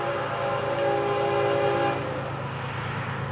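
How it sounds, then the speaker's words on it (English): Freight train FEC101 rumbles past close by, its horn sounding a steady multi-tone blast before fading, over the continuous roar of the cars. "Special train right here."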